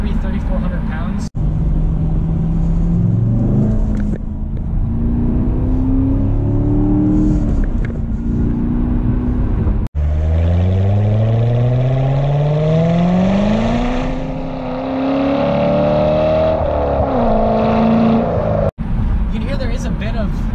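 A 2018 Chevy Corvette driving in its more aggressive setting, with a loud continuous engine note rising and falling through gear changes over a bed of road noise and tyre rumble.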